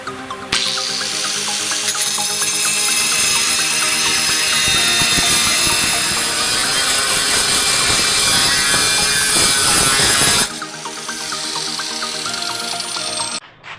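A power tool cuts away surplus material from a rear speaker mount for a Toyota MR2 Spyder, a loud, steady grinding rasp lasting about ten seconds before cutting off abruptly, followed by quieter running.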